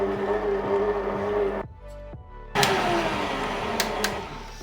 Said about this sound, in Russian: Начинаем месить с маленьких оборотов, и потом мы обороты увеличим.